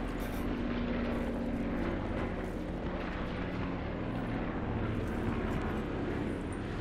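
Constant heavy rotor-and-engine drone of a helicopter in a battle royale game, a dense steady roar holding loud and unbroken throughout with no voices over it.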